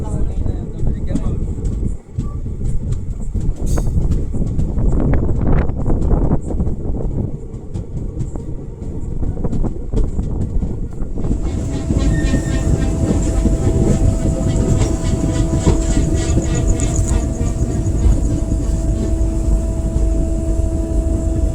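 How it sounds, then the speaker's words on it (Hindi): The Latur Mumbai Superfast Express 22108 rumbles and rattles loudly while crossing the Sangli Parli DEMU, a constant heavy rolling roar with clattering wheel noise that shifts to a brighter, whining tone about halfway through. "पे हमारी ट्रेन की क्रॉसिंग हो रही है सांगली परली डेमू के साथ।"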